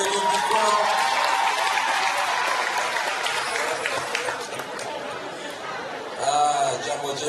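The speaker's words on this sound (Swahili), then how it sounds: "Makofi tena na vigelegele vingi kwao." An audience at a gathering claps steadily, with crowd chatter and voices mixed in throughout and a brief high, wavering trill near the end.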